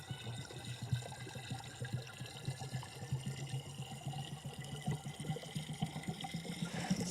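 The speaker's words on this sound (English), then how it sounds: "Still hear it gurgling?" Water gurgles and trickles steadily through a homemade vertical strawberry planter, a continuous close, bubbling flow with small irregular splashes throughout.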